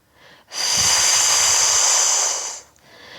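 A long, forceful exhale hisses out for about two seconds during an abdominal breathing exercise, close and loud, with quieter breaths before and after.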